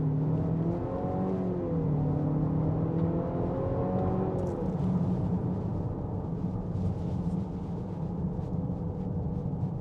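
A turbocharged 2025 Nissan Murano SUV engine hums steadily as the vehicle gently accelerates, a smooth rising drone with road noise underneath and no voices.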